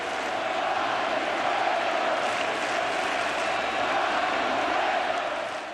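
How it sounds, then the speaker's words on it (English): A packed World Series baseball stadium crowd roars in a steady, dense wash of cheering that holds at full volume without a break. "this crowd was anxious to see Cueto pop out of that dugout"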